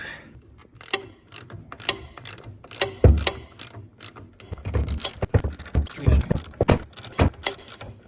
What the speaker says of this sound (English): So, I'm gonna take a 13 mil, come up and find the bolt